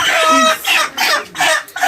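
A chicken clucks and squawks in several short, loud bursts close by, one after another.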